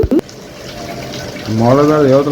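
Tap water runs and gushes into a bowl being filled for birds, a steady watery rush close by, with a voice speaking over it toward the end.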